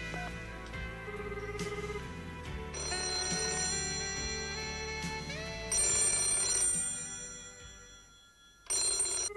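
A telephone rings repeatedly in an anime scene, a call to a grandfather that goes unanswered. The ring is bright and electronic and repeats over music, with no talking.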